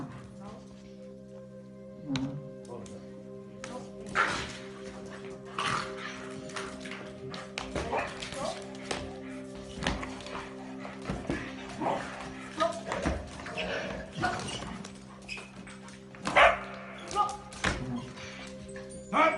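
At an Asian pet rescue center, a dog being taunted gives scattered barks and whimpers among taps and clatter, moderately loud and broken up, while people talk across the scene.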